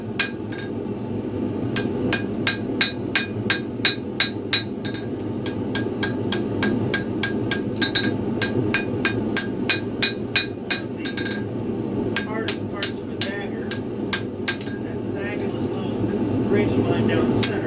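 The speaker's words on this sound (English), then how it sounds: "go back to my 3-pound hammer" A 3-pound hammer forging a dagger blade, sharp ringing metallic strikes in quick regular runs with brief pauses, over a steady background hum of shop noise and ventilation.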